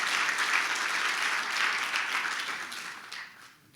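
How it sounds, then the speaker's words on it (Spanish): A church congregation applauds during a Spanish-language service, a full, even round of clapping that carries steadily before thinning and fading away at the close. "denle el aplauso al Señor"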